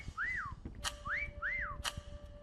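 A player character whistles in the video game Meccha Chameleon, three short rising-and-falling whistled notes in a row, fairly clear over faint game background with sharp clicks between them.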